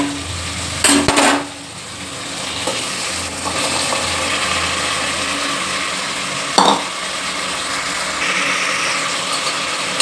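Jackfruit seeds sautéing with onion and tomato for biryani give a steady close sizzle, broken by a few sharp spoon knocks and scrapes against the pan.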